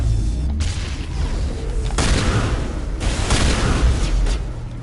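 Grenade blasts in the Mass Effect video game land as a cluster of loud, booming explosions, with sharp bursts around two and three seconds over a continuous rumbling battle din.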